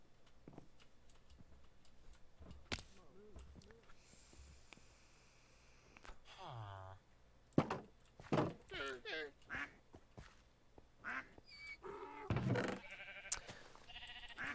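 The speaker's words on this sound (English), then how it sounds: "let's get some sheeps, I guess" Minecraft sheep bleat in short, scattered calls among quiet game ambience, while a player talks intermittently over them.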